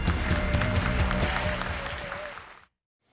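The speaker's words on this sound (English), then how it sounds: "warm round of applause for Ady Floyd." An audience at a keynote talk claps steadily for a couple of seconds, the applause fading out and then stopping abruptly into silence.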